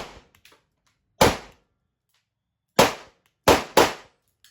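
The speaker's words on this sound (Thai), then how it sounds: "ทดสอบปืนแบงกันนะครับ" Four sharp, loud reports from a Zoraki 917 Glock 17-style blank pistol ring out in a soundproofed room. The shots come at uneven intervals, with the last two close together, each followed by a short echo.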